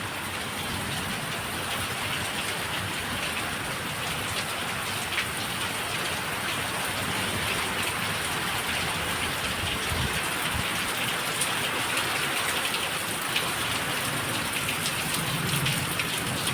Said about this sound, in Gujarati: અત્યારે વરસાદ થોડો આવે છે